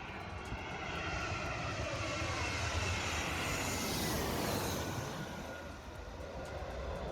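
An airplane comes in to land beside the plane spotting point in Batumi, Georgia: a loud, broad jet roar swells and holds for several seconds, then eases slightly near the end, with no voices.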